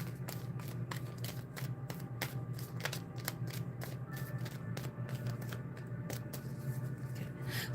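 A deck of playing cards being shuffled, a faint rapid series of crisp riffling clicks over a steady low room hum, with no talking.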